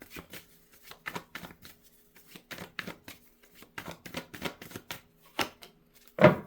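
Tarot cards are shuffled and drawn by hand, making a rapid series of crisp riffling snaps and soft card slaps, close and fairly quiet, ending in one sharper slap.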